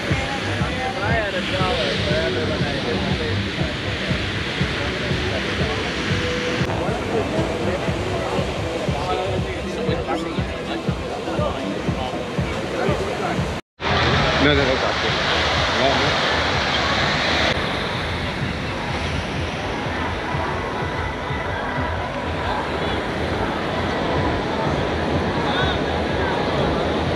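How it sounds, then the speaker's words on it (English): Surf washes steadily onto a crowded beach at Puerto Vallarta, with a constant wash of waves and wind under a busy murmur of voices that continues throughout, broken by one brief cut. "Very, very busy day here at the gay beach."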